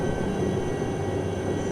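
Steady droning engine and rotor hum from a helicopter in a desktop flight simulator game, a continuous even tone that holds through the landing approach.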